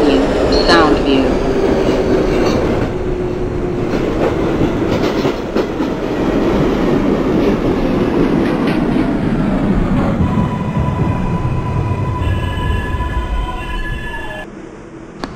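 A New York subway R142A 6 train in the openBVE train simulator rumbles along the tracks with a steady roar, wheels clacking and a brief high squeal, then slowing as it nears a stop.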